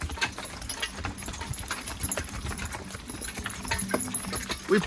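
Draft horses' hooves clop in short, choppy strides in the mud while hauling logs, a steady patter of soft, irregular footfalls at moderate distance under someone talking.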